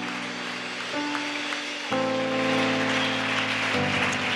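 A church congregation claps along during youth worship, a dense, steady patter of many hands under sustained worship music that swells partway through.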